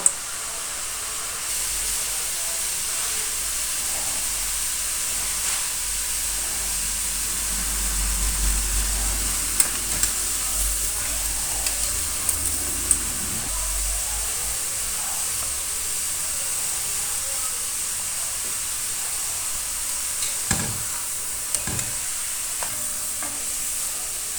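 Vegetable pakoras frying in hot oil give a steady, close sizzling hiss throughout, with occasional stirring and soft scraping sounds and a few brief clicks.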